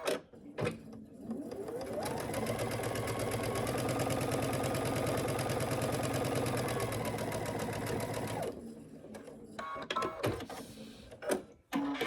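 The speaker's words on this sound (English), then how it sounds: "Take it to the sewing machine and do a 1/4 inch." Sewing machine running a continuous quarter-inch seam on a quilt block piece, a steady mid-loud mechanical whir lasting several seconds, bracketed by short handling clicks and fabric rustles before and after.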